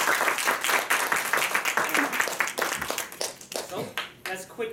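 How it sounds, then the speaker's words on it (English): Audience applause welcoming a speaker at a club opening session, a burst of dense hand clapping that thins out over several seconds, with voices talking through it near the end. "Let's give him a round of applause to welcome him here."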